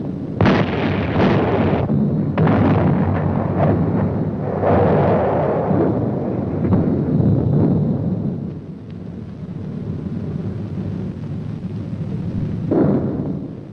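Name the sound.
artillery battery firing for effect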